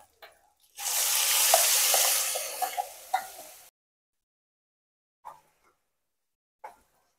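Ground masala paste with turmeric sizzles sharply in a hot pan while cooking sprouted moong bhaji, a loud burst of a few seconds with small pops, then quiet with two brief clinks.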